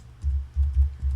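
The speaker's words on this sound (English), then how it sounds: "you simply type in here whatever you want on this" Keys on a computer keyboard clack in short bursts of quick strokes, close and fairly soft, with no talking.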